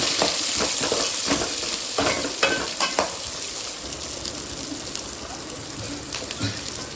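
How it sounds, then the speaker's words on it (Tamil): Chopped big onion, small shallots and green chillies sauté in hot oil for a home dinner, a steady close sizzle with scraping stirs in the first few seconds before the frying settles into an even hiss. "ஒரு பெரிய வெங்காயம் சின்னதாக கட் பண்ணி வச்சது போட்டு நல்லா வதக்கிக்கலாம்."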